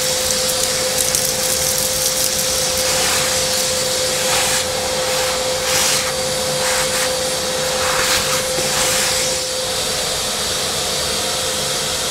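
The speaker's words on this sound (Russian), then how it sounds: "надо, наверное, пылесосик включить сразу" Vacuum cleaner running steadily and loudly on a freshly painted terrace floor, a constant close whine with a sustained tonal hum, uninterrupted for the whole stretch with no talking.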